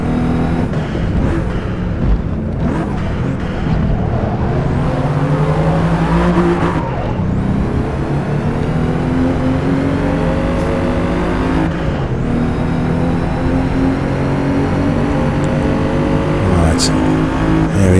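Race car engines in the Forza Motorsport video game roar continuously and loudly, with gear changes and shifting pitch as the cars slipstream and overtake, and tires squeal, while someone talks over them throughout.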